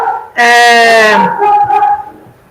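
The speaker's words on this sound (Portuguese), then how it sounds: "O cachorro tá latindo." A dog gives a loud, harmonic bark or yelp, followed by a softer, whining tail-off, heard alone and fairly near.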